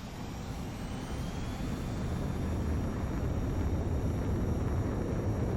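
A jet fighter rolls for takeoff in the flight combat game Ace Combat 7, its engine a continuous loud roar with a deep rumble and a faint rising whine, holding steady and growing slightly louder.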